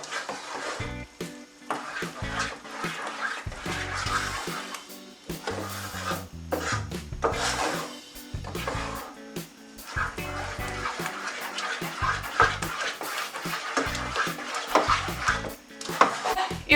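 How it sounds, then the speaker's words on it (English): Cheese sauce for Beecher's-style mac and cheese is stirred in a pot until melted, giving steady scraping and soft clinks of a utensil against the pot, close and continuous with small irregular knocks. "we're just going to stir it till it's nicely melted"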